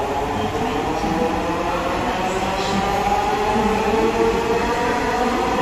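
A Dhaka metro rail train rolls along a busy platform with a steady, loud rumble and rail hiss that holds throughout, with faint crowd noise behind it.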